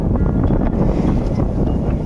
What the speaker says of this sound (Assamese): ইমান ধুনীয়া বতাহ বলিছে।